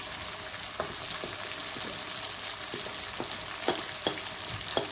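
Ground cumin, turmeric, red chili, curry powder and garam masala frying together in a pan for a kofta and potato gravy, a steady close sizzle broken by light scraping stirs.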